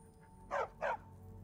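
Two quick dog barks from a dog companion in the video game Skyrim, loud and close, with a steady low background hum and no talking.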